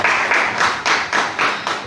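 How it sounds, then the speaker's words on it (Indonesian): A group of teachers at a teacher-training session claps in a rhythmic pattern of about six sharp, evenly spaced bursts, close and clear, with no talk over it. "Beri tepuk tangan dong untuk kita semua."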